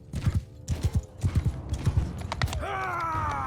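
Horse hooves clip-clopping in the video game Mount & Blade II Bannerlord, a quick galloping rhythm of close, fairly loud hoofbeats, followed near the end by a rising whinny-like tone and mechanical creaks.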